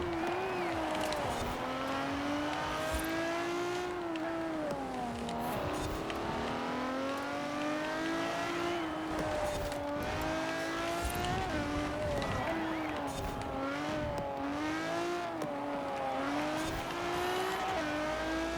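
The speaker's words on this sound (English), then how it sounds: "I kind of have to downshift to second and get up to third before I accelerate." A car in the racing game Forza Horizon 4 during an autumn championship race, its engine whining up and dropping back as it shifts down and accelerates again in repeated loud cycles, with faint talk underneath.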